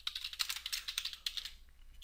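Rapid, light clicking of keys on a computer keyboard during work in SOLIDWORKS CAD software, a close run of crisp keystrokes in an uneven rhythm that thins out toward the end.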